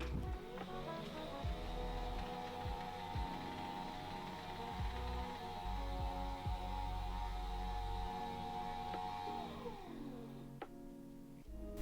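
A motorized standing desk with a touch panel runs its quiet motor, a steady low hum with a faint whine that starts, holds for about eight seconds, then stops.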